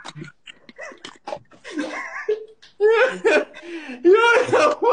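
A female dog yelps and whimpers in high, wavering cries mixed with excited human chatter and laughter, close and fairly loud throughout.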